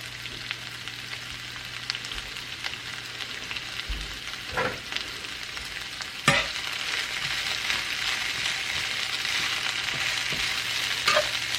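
Coleslaw mix and mushrooms stir frying in a pan, a steady soft sizzle with occasional clinks and scrapes of stirring, close and alone without talk.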